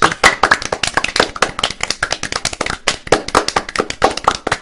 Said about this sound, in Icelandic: Áhorfendageimverurnar klappa og hlæja